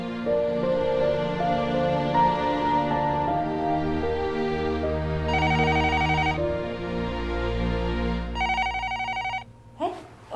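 A telephone rings in two short bursts of rapid trilling bell tones, sounding over steady background music before a brief clatter at the end.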